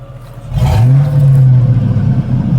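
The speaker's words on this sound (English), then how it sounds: "There's rev it up again a little bit." Truck engine revved during a ride, a deep rumble that swells into one sustained loud rev and then settles back to a steady drone.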